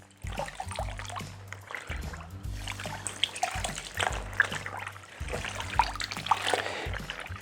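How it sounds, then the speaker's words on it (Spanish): A white cotton T-shirt is pushed into a basin of water, giving soft, irregular trickles and small splashes at close range over a low steady hum, with no talking. "el primer paso sería introducirla en un barreño con agua"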